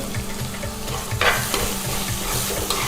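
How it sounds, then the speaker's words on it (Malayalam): Grated coconut and masala are stirred in hot oil for a Kerala tapioca masala, with a loud continuous sizzle and rhythmic scraping strokes of the spoon against the pan, close up and without speech. "എന്നിട്ട് നല്ല രീതിയിൽ ഒന്ന് ഇളക്കി കൊടുക്കണം"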